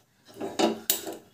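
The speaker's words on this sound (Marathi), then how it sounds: "तर सर्वप्रथम आपण गॅसवर एक कढई ठेवूया" A metal kadhai (wok) is set down on a gas stove, giving a couple of clanking metallic knocks and scrapes, close and fairly loud, with no talking.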